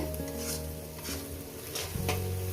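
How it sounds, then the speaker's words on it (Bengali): Quiet sizzle of chopped eggplant and dried fish frying in a pan, broken by a few scrapes and stirs of a spatula, with a low background hum. "আর দু মিনিট ভেজে নেব"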